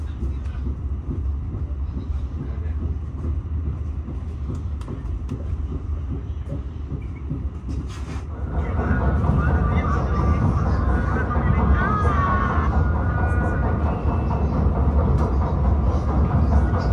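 A Kertanegara passenger train rumbles past with a steady, loud mechanical roar that grows heavier midway, and a person talks over it throughout.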